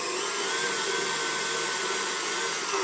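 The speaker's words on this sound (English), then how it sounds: "If you can't hear me because of the KitchenAid" A KitchenAid stand mixer runs steadily on its own for the full stretch, a loud, even whirring motor hum with a constant high whine, close by and with no pauses or talk.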